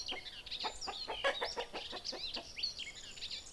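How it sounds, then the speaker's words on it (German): Hens and roosters cluck and call in a farmyard, a busy run of short, sharp clucks and squawks of middling loudness over a quiet background. "13 Hühner liefern die Frühstückseier, von 3 prächtigen Hähnen gut bewacht."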